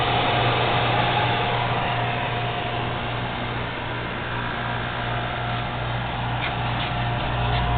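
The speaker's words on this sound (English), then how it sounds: "We have a DrizAir 1200 dehumidifier." A DrizAir 1200 commercial portable refrigerant dehumidifier, unused and in very good condition, runs with a steady mechanical fan and compressor hum, a constant low drone with a faint tonal whine holding level throughout.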